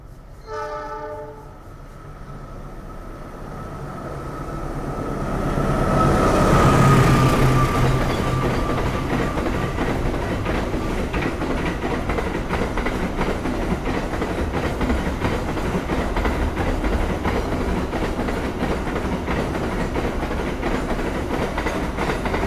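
Sembrani express from Gambir to Surabaya Pasar Turi races past at about 120 km/h, a long horn blast rising into a loud, sustained wheel clatter and roar that fills the remaining seconds.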